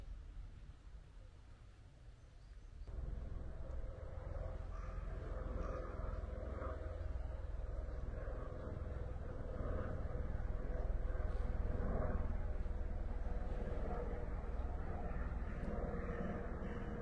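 An airplane passing overhead in Yokohama, a broad steady roar that swells and stays loud, with crows cawing intermittently in the background.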